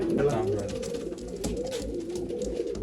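Pigeons in a collection in Bangalore coo softly and repeatedly close by, low throaty calls over a faint background murmur of voices.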